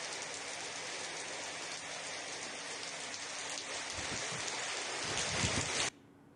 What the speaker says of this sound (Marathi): रत्नागिरीच्या किनारपट्टी भागातही रिमझिम पावसाला सुरुवात झाली आहे।